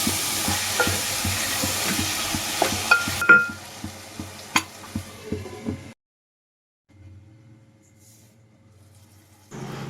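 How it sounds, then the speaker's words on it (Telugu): Chopped tomatoes fry with chili powder in a triple-layer pot. A spoon scrapes in quick regular strokes over a steady sizzle. The stirring stops, there is a brief silence, and then a softer sizzle continues. "కట్ చేసి పెట్టుకున్న టమాటాలు కూడా వేసి మంచిగా వేయించుకోవాలి మెత్తగా అయ్యేదాకా"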